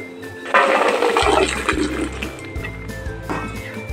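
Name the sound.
water draining from boiled peanuts in a sieve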